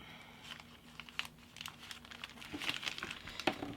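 Paper creased and collapsed by hand while folding an origami baby dragon: soft, close crinkling and rustling in short bursts, quiet and growing slightly busier toward the end.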